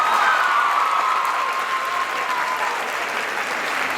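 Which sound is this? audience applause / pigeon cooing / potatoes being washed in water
audience applause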